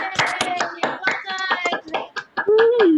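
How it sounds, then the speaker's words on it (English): Scattered hand clapping from participants unmuted on a video call, mixed with overlapping voices and a closing whoop, brief and uneven in level. "all unmute ourselves and give a really big round of applause to all of"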